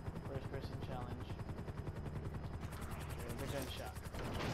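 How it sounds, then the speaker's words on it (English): Gunfire in a first-person challenge in the video game GTA V: dense, rapid, repeated shots run through the whole clip over a steady helicopter-like mechanical drone, loud and continuous. "There's a gunshot."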